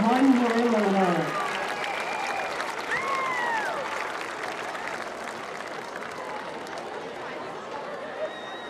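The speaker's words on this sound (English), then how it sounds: "Let's give them a warm round of applause as they return to Dragon Stadium 1 year later." Stadium crowd applauds the returning homecoming king and queen at a high school football game, a broad wash of distant clapping and chatter under a public-address voice, with a brief tonal swoop early on.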